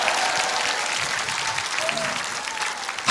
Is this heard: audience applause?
yes